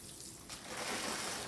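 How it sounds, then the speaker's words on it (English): Water poured over a bonsai forest planting to settle sand into it, a soft, steady, fairly faint splashing wash that grows slightly fuller after the first half-second. "Quick water, just to settle all that sand in."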